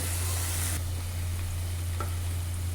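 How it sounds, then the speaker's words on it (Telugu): Tamarind juice poured into a hot pan of onion and egg curry, with a loud steady sizzle that drops abruptly as the liquid hits, then a softer continuous bubbling hiss and a low constant hum underneath. "ఆ నిమ్మకాయ అంత తీసుకొని పులుసు తీసుకొని ఈ విధంగా యాడ్ చేస్తాము"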